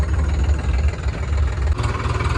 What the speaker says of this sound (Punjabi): ਉਧਰੋਂ ਮਨੀ ਵਾਲਾ ਟਰੈਕਟਰ ਵੀ ਆ ਗਿਆ